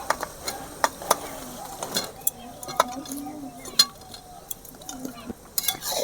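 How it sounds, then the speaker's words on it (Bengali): A utensil stirs fried chicken through chilli chicken sauce in a pan, giving repeated sharp metallic clinks and scrapes at an irregular rhythm over a faint sizzle. "এবারে আমি নেড়ে নিচ্ছি।"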